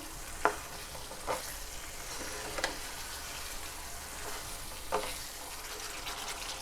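Eggplant, potato and tomato sizzle in oil in a pan for a Kathiyawadi-style vegetable dish, a soft, steady frying hiss broken by a few sharp stirring clicks, with no talking.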